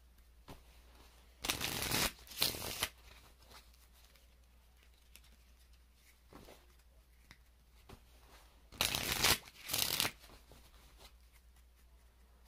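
Tarot cards are shuffled in two distinct bursts of crisp, rapid riffling, each lasting about a second and close up, with quiet pauses between.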